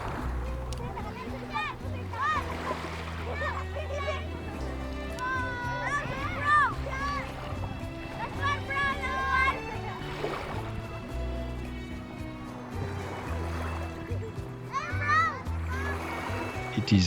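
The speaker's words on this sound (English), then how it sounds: "That's the children shouting at me" Children shout and play in the water at a beach on the wild east coast of Palawan, their excited voices rising over splashing and a low background rumble.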